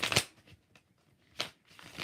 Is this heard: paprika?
no